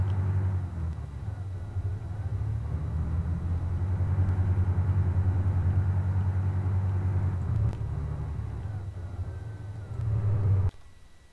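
Military vehicle from the IFA3 Blitzkrieg mod for Arma 3 reversing, its engine a steady low rumbling drone that builds slightly, then cuts off abruptly near the end.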